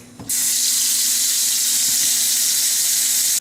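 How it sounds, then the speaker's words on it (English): Steady rush of tap water pouring into a kitchen sink while freshly picked garden oregano is rinsed, a continuous broadband hiss starting abruptly after a brief clunk and running evenly at close range. "we're just going to throw it in our sink and then rinse it up nicely"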